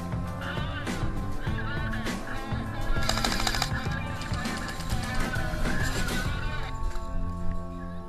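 Airsoft guns firing during a university airsoft game, rapid bursts of clicking shots and rattling volleys mixed with voices and other mechanical noise, fairly close.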